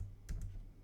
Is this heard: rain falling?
no